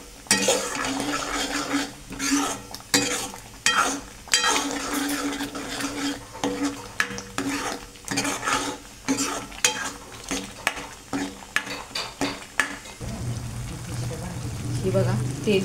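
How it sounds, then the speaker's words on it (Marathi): A spoon scrapes and stirs pav bhaji masala gravy roasting in oil in a pan, with rapid repeated scraping strokes and a soft sizzle running continuously, close and loud. "ग्रेव्ही आपण तेल सुटेपर्यंत भाजणार आहे."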